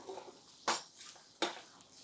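Prasadam-style coconut rice is stirred in a pot, with two distinct scraping clatters of a spoon against the metal about a second apart over a faint background.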